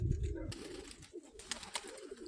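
Pigeons coo in short, soft bursts, close by, over a steady low background hum.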